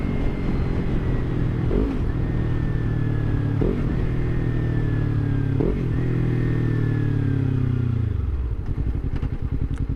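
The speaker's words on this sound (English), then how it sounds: "that's a Lamborghini, not a Charger." A car passes a Ninja 300 motorcycle on the road, its engine rumbling steadily under the bike's own droning engine and wind noise, with a few thumps and shifts in pitch before the sound fades.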